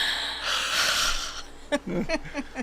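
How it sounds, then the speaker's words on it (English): A long, breathy yawn stretches for over a second, followed by a few short puffs and muffled vocal sounds close by. "See, you can yawn and nobody even sees"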